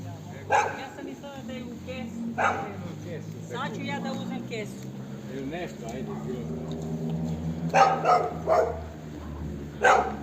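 Dogs bark from a distance along an evening street in Niš, Serbia, several short bursts spread out across the stretch, with someone talking over them throughout.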